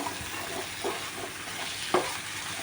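Bottle gourd pieces are stirred through a simmering curry in a pot, with a few soft scraping clicks of a spoon under a steady low sizzle, and no voices.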